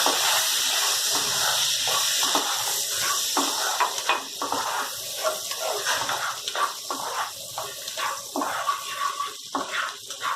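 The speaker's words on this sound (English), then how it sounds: "We are going to add the wine." Wine poured into a hot pan of fried bhetki fish for a creamy lemon butter sauce, giving a steady loud sizzle and hiss with bubbling crackle that runs throughout without voices.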